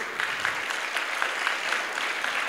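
An audience at a volunteers' appreciation day in St-Calixte claps steadily, giving a dense, even patter of applause throughout without cheering.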